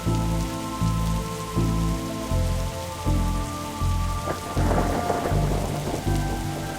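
Heavy rain with rolling thunder in the video game The Darkside Detective, loud and steady, layered over a droning musical background with periodic low rumbles and no speech.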